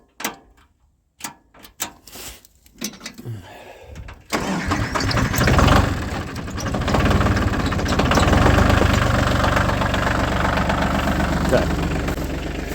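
A chainsaw is started in cold weather: a few short, sputtering pull attempts separated by quiet, then the engine catches and runs continuously and loudly close by.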